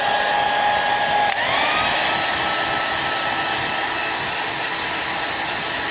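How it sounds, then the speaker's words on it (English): Air dryer blowing steadily on a homemade topwater banana lure, a loud continuous whooshing roar with a faint whine that shifts slightly in pitch partway through, heard alone with no talking. "I'm not right up on it with the air dryer."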